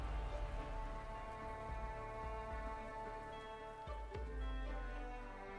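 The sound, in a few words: rain falling in Arknights video game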